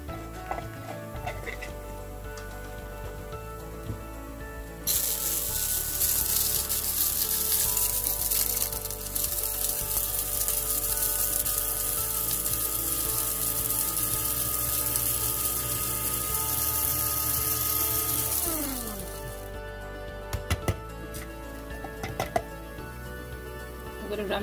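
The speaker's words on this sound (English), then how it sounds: "We're going to grind the coriander seeds, the cumin or jeera seeds, and the peppercorns." An electric spice grinder whirs loudly and steadily, grinding coriander seeds, cumin (jeera) seeds and peppercorns into powder, starting with a sharp burst and running continuously for most of the stretch before cutting off, followed by a few light clicks.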